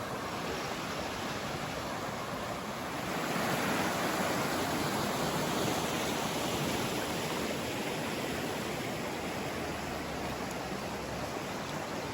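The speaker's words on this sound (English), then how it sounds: "Anytime I see water, gotta love the water." Water in a park stream rushes in a steady, unbroken hiss, fairly loud and close, swelling slightly partway through, with no voices.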